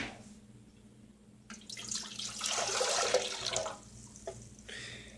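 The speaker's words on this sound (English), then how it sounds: "I'm going to take this and I'm going to pour it into here." Hot water poured from a measuring cup into a bowl while making homemade bread dough, a short splashing pour that swells and then stops, heard close and fairly quiet against a low background hum.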